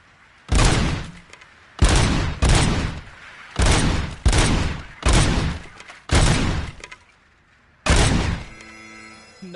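Gunfire at a shooting range in the video game RoboCop Rogue City: about seven loud, close, heavy shots in an uneven rhythm, each with a quick crack and a short decaying tail, the last followed by mechanical ringing.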